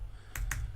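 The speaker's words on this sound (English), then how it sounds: "I'm just going to type npm install" Two quick keystrokes on a computer keyboard, close and crisp, typed while entering a command for a Node project, with a quiet background and no speech.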